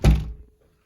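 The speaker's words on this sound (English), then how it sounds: "Close the door." An internal door swings shut with a single close, dull thunk that fades out quickly.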